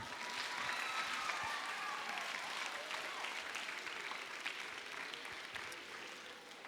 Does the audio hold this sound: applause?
yes